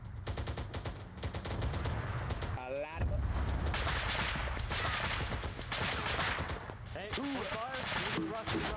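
Video game firefight at a military checkpoint, with dense bursts of rapid automatic gunfire and heavy shots that are loud and sustained, mixed with radio chatter and voices throughout.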